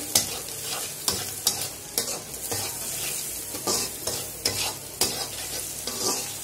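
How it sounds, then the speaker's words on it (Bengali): Chili, turmeric and cumin powder fry in a pan with a steady sizzle, broken by regular stirring scrapes and clinks of a utensil against the pan, close and fairly loud, with no talking. "সামান্য মরিচের গুঁড়া, হলুদের গুঁড়া, জিরার গুঁড়া দিয়ে দিলাম। দেখতে পাচ্ছেন এটা কতক্ষণ একটু ভেজে নিতে হবে।"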